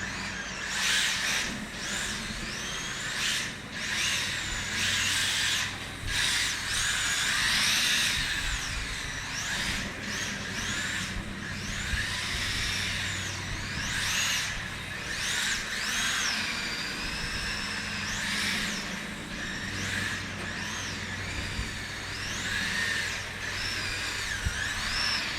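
An RWD RC drift car fitted with upgraded Yeah Racing QUTUS shocks runs continuously for about 25 seconds, its electric motor whining and rising and falling in pitch as it accelerates and slides, at steady moderate loudness with no talk.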